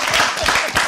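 Live audience applauding for a guest on a French radio-style stage show, a dense wash of clapping lasting under a second with no voice over it.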